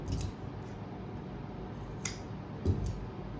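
Scissors cut through cloth during stitching work, giving a few faint, brief snips over a quiet, steady background hum, with no voices heard.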